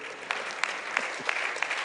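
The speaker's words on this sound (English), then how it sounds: "Mrs. Ajileye, yes, clap for her, please" Audience applause at an annual management lecture, a dense steady patter of many hands clapping with a few sharper claps standing out, moderately loud and brief.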